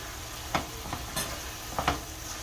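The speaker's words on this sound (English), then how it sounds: "we're going to add overflowing 2 tablespoons of soy sauce to this" Filipino picadillo sizzles steadily in a pan as two heaping tablespoons of Kikkoman soy sauce go in, a soft hiss broken by a few light clinks and stirring scrapes, with no talking.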